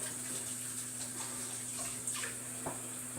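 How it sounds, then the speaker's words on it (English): Tap water runs steadily at a sink while hands are washed before handling raw meat for bacon curing, a soft continuous stream with faint splashes. "So let me wash my hands real quick."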